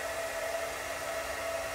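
Steady, continuous whoosh of a hair dryer blowing close by, with a faint high whine running through it and no voices.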